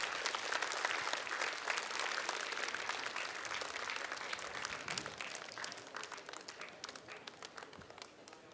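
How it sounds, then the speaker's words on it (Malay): Sustained audience applause at a Malaysian Islamic marhaban competition prize presentation, dense broadband clapping that holds steady then slowly tapers toward the end. "Kita berikan tepukan."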